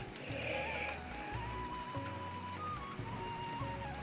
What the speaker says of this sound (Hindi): देखो बारिश आने लग गई।